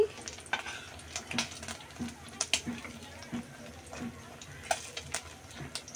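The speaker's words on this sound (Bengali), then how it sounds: "তার মধ্যে এই যে এভাবে লোটে মাছটা দিয়ে এভাবে আপনারা ভাজি করতে পারেন।" Loitta fish coated in gram flour batter fries in hot oil, a steady sizzle under intermittent utensil ticks and stirring clinks, with faint talk in the background.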